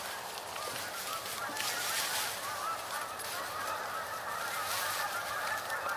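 Flock of geese and ducks flying in to a full lake, a steady chorus of honking calls at moderate distance with no talking.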